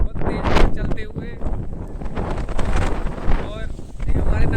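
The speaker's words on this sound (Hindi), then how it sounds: "बहुत तेज हवा चलते हुए," Heavy wind batters a microphone outdoors on the road near Rishikesh, a loud rumbling roar with gusty surges throughout, while voices are heard faintly beneath the buffeting.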